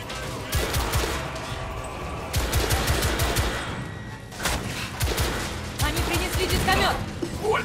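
Heavy gunfire in The Order: 1886 pours out as dense, loud bursts of rapid machine-gun fire with short pauses. The volleys crackle and thud close by, with battle noise underneath.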